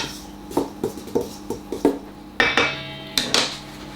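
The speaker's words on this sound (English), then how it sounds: "Give it a little mix up so that it's a bit combined." Flour, baking powder and cinnamon stirred together in a bowl, a series of sharp spoon-on-bowl clinks and taps in an irregular rhythm, close and clear with no talk.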